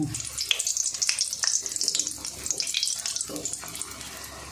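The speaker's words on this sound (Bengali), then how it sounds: "এভাবে ভালো করে সবগুলো রোল ভেজে নেব" Vegetable rolls fry in hot oil in a pan, giving a steady bright sizzle with scattered pops and crackles throughout.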